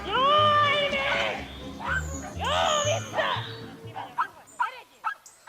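Pumi herding dogs bark in rapid, high-pitched yaps and whines while herding sheep, several dogs overlapping in a busy, continuous run that breaks into sharper separate barks near the end.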